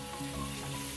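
Half a kilo of marinated chicken sizzles as it goes into hot oil tempering for a simple chicken curry, a close, steady frying hiss with no talking.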